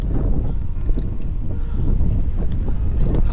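Strong wind roars and buffets the microphone on a steep mountain road climb by bicycle at Yangmingshan in Taiwan, a continuous low rushing noise with gusty swells throughout.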